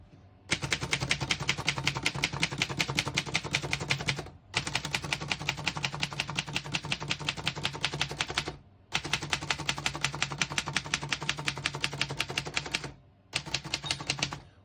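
Rapid, steady keystrokes on a 1932 Remington Porto-Rite portable typewriter in long runs with brief pauses between bursts, close and crisp, no voices.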